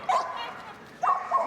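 A dog barking during an agility run at the Crufts 2025 intermediate agility championship, two loud, close yipping bark bursts about a second apart.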